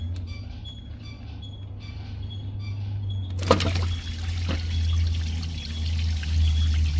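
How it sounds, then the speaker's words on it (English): Coolant gushing out of a removed EGR cooler on a 2019 Ford F350 6.7L Powerstroke into a bucket below, a sudden splashing pour that starts midway over a steady low engine-bay rumble and keeps trickling, no talking. "A lot of coolant will pour out of it"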